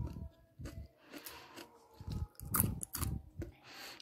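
Crispy fried fish with eggplant being crunched, with several close, loud bursts of crunching and chewing in uneven bites and no talk over them.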